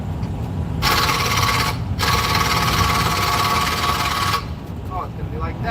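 A power tool, likely an impact wrench, works on a car's crank pulley bolts in two loud sustained bursts with a brief pause between, then cuts off; background noise and talk surround it.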